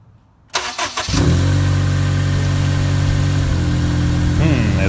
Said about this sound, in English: It's idling, but I'm not hearing any revs.